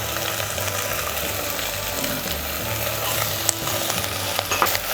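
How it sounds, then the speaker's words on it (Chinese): Spices stir-fried in a wok with Pixian bean paste and pickled chilies for home-style Chongqing chicken pot, a continuous loud sizzle with scraping spatula strokes and faint clinks, no talking. "先把香料炒香，然后呢，我们加入郫县豆瓣酱， 泡辣椒。"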